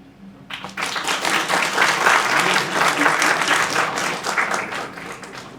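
Audience applause swells quickly from near silence into dense, sustained clapping from a large crowd at a review show, staying fairly loud before easing slightly toward the end.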